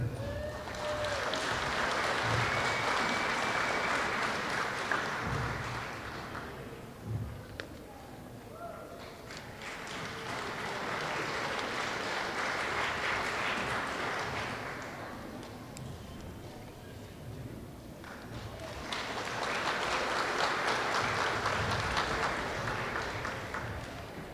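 Audience applause at an elementary school awards assembly, three sustained rounds of clapping from a crowd, with quieter gaps between them.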